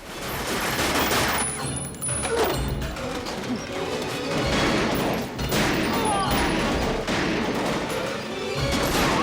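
A film shootout in Joshua Tree, with dense, continuous gunfire, crashing impacts and smashing debris piling up in a loud, chaotic barrage that swells and dips, with no clear pauses.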